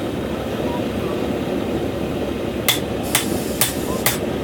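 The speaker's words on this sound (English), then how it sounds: "Put it right over the hardy hole and hit it with the ball peen." A ball peen hammer strikes metal held over the hardy hole of an anvil: four sharp, ringing blows spaced about half a second apart, cutting through a loud, steady background roar.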